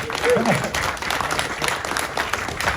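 Audience applause after a fishing seminar: a steady wash of scattered hand clapping from a room of people, moderately loud and continuous throughout, with a brief murmur of voices near the start.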